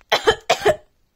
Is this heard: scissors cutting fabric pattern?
no